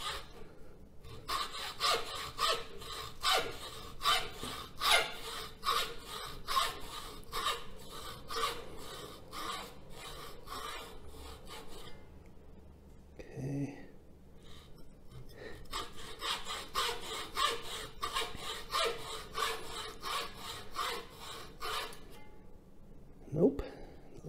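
A hacksaw cuts material for a homemade crystal radio in quick, rhythmic back-and-forth strokes, close and fairly quiet, in two long bursts separated by a brief pause, ending with a faint knock.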